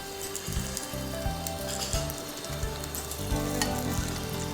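Bacon crackles and spits in a pan during cooking for a chicken roulade, a busy, close sizzle with occasional louder pops and scraping knocks, and no speech.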